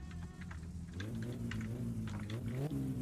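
A car engine in the driving game My Summer Car revs quietly, its pitch climbing after about a second and rising again near the end as gears change. No one speaks.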